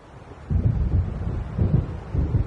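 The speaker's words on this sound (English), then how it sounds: "It seems there's a storm coming." Low rumbling thunder rolls in with gusting wind in the video game Alan Wake as a storm approaches over open water, swelling in several heavy surges close and loud.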